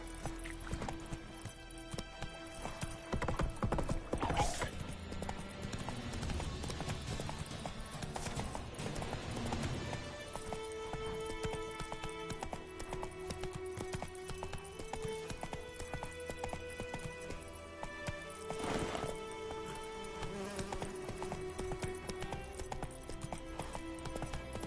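A horse galloping in The Witcher 3 sets up a quick, even drumming of hooves, close and sustained, mixed with ambient music and a couple of sharper, louder bursts.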